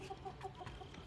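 A chicken in a free-ranging flock, out in the rain, gives a quick series of short, soft clucks close by. Steady rain hiss sits underneath.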